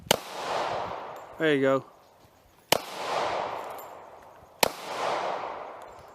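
Three sharp, loud gunshots crack at an outdoor shooting range, evenly spaced about two seconds apart, each followed by a rolling echo that fades away. Someone speaks briefly between the first and second shots.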